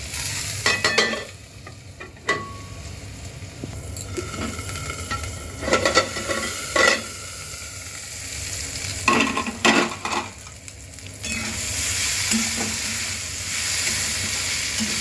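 Potatoes sizzle in a pan, a steady frying hiss broken by bursts of stirring and spatula scrapes against the pan, close and fairly loud, with no talking.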